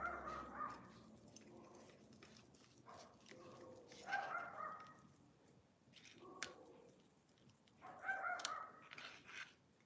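A dog barks in repeated bursts a few seconds apart, moderately close, with a quieter call or two in between.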